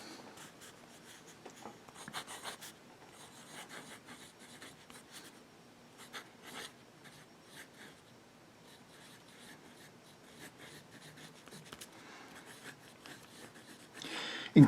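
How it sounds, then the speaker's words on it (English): A Delta Dolcevita fountain pen with a broad nib scratches and glides across paper in soft, irregular strokes with brief pauses, quiet and close, with a small clatter at the very end. "let's put ink to paper"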